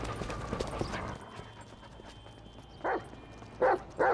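Chop, the dog in GTA 5, gives three short, loud barks near the end after a stretch of quieter game ambience with soft footsteps-like clops.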